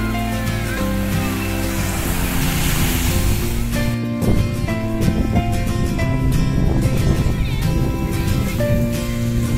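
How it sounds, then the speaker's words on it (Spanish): Calm sea lapping at Mera beach in Spain on an almost windless day, a soft continuous wash of small waves heard under steady tonal background music. "no hay viento casi y el mar está tranquilito"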